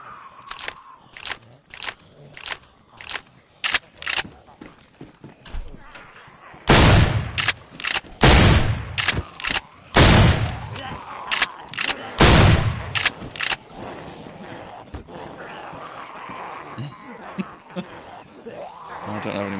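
Shotgun blasts in DayZ ring out as a series of loud, sharp reports, spaced irregularly with clusters in the middle, while people talk and laugh between shots.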